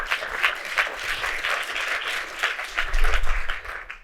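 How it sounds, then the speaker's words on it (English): Audience applause at a talk on free speech, a few seconds of scattered clapping with some uneven swells and a low rumble near the end. "applause"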